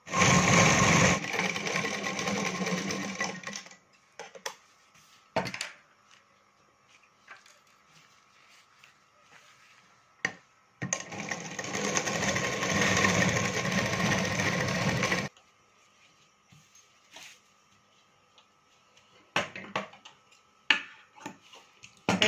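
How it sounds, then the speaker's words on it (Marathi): Sewing machine stitching the lining of a katori blouse, running in two long, steady bursts of rapid close-up whirring separated by quiet pauses with small clicks and handling noises. "हे असं शिवून घ्यायचं."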